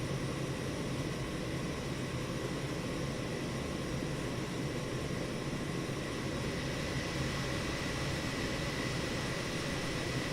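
Boeing 707 jet engines in Microsoft Flight Simulator 2024 hold a steady, dense roar with a constant high whine, even and unbroken throughout, moderately loud and with no voices over it.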